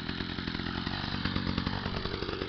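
A Stihl MM 55 Yard Boss tiller's small two-stroke engine runs on a cold start, a close, buzzing, chainsaw-like drone with a slightly uneven pulse.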